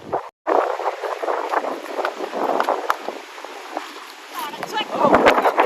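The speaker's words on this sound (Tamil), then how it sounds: "எப்படி அடிக்குது பாருங்க காத்து. சரியான காத்து." Strong wind buffets the microphone at an outdoor cricket ground during a local tournament match, a loud, gusty rush that swells and fades under someone commentating.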